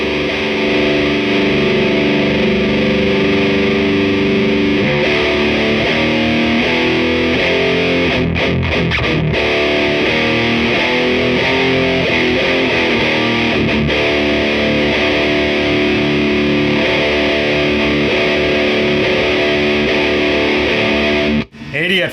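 A loud, sustained overdriven electric guitar through a Crate Blue Voodoo 60 tube combo amp chugs and rings steadily for over twenty seconds, thick and saturated, with a few brief dropouts midway.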